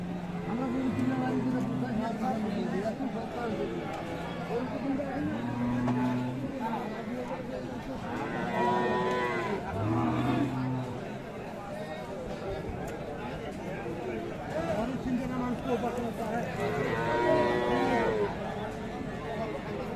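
Sahiwal cows, a four-tooth cow among them, low in a busy cattle market in Dinajpur, several drawn-out moos rising over steady crowd chatter and people talking throughout.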